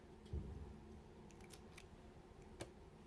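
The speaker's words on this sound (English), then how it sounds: "with this end cut this thread" Scissors snipping crochet thread for a puff button and bead necklace, heard as a faint, brief single cut with a few soft clicks in a quiet room.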